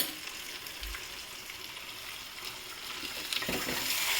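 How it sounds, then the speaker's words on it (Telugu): Mutton cooking in a pan for a mutton curry: a soft, continuous sizzle and frying hiss, with a few brief stirring or scraping sounds near the end, fairly quiet and close. "అది దాంట్లో మటన్ యాడ్ చేసుకుందాం"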